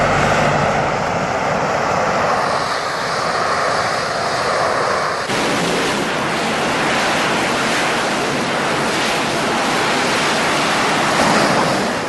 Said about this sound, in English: The entire weight of the aircraft is balanced on the thrust from the 4 engine nozzles.